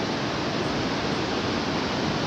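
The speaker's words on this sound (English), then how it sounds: "this is the other side of the Weir, and it is still very, very noisy" Water pouring over the weir at Teddington on the River Thames, a loud, steady broadband roar of rushing water heard close up with no break or voices across the whole stretch.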